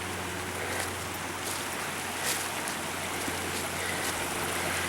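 Spring runoff stream flowing along a hiking trail, a steady, continuous rush of water close by that holds at an even level throughout, with no voices present.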